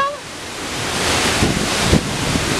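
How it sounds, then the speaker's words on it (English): Shellburg Falls waterfall roars in a broad, steady rush of falling water and spray, loud and close with wind buffeting the microphone. "walk around the waterfall"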